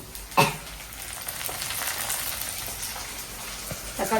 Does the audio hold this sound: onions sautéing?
yes